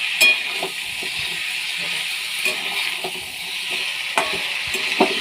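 Potatoes and onions fry in a pan for a spicy potato dish, giving a steady close sizzle with occasional scraping stirs and light clicks.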